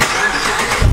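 A Roush Mustang engine cranks and fires up near the end of a short stretch of steady background noise, with a brief low rumble as it catches.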